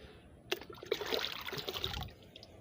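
Water poured from a container onto the dry base of a long bean plant in a rooftop garden, a soft splashing trickle lasting about a second and a half, close by and fairly quiet.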